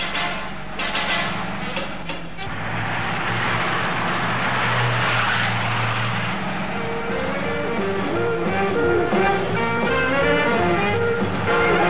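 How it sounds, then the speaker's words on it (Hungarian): A car speeding along a road, its engine roaring loud and continuous for the whole stretch, rising and holding steady with a rushing, droning tone and no voices. "És a kocsi ellenállhatatlanul rohan végzete felé."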